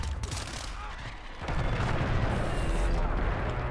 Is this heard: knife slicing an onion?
no